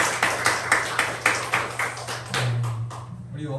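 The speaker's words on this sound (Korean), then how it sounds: "다시 한번 우리 박수로 영광 올려드리도록 하겠습니다" A church congregation claps in a steady rhythm, with distinct claps about four per second from a group in the room, fading toward the end.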